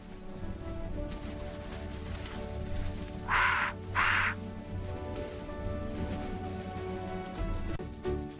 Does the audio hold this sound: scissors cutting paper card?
no